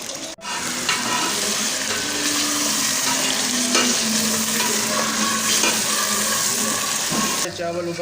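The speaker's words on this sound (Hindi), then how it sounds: "अब हम इस मसाले को भून लेते हैं थोड़ी तेज़ आंच करके।" Masala with curry leaves frying on high heat in a pan, a dense continuous sizzle with stirring scrapes, loud and close, briefly broken near the start and end.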